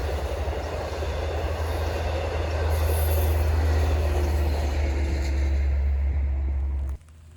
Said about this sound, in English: we catch Montauk Branch train number 6015 passing through on its way to Jamaica